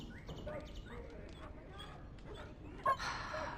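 A dog whines and whimpers softly in the Dragon Age game, a few faint, high, plaintive yelps over a quiet background, while a character's voice talks over it.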